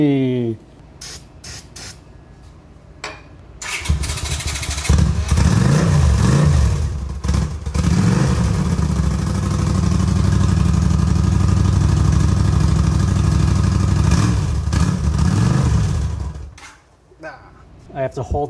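A motorcycle engine with its throttle held open runs loud and steady for several seconds after sputtering attempts, its raw roar close by, then cuts out.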